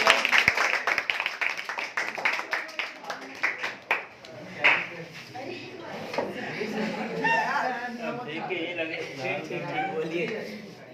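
Clapping from a crowd welcomes a guest at a Children's Day school event: a burst of applause in the first few seconds, then it fades into chatter and a voice speaking.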